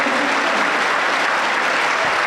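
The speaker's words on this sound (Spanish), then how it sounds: "Un fuerte aplauso para Cristo Jesús." A church congregation applauds for Christ Jesus, loud, dense and sustained clapping throughout.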